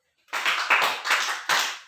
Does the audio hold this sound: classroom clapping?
yes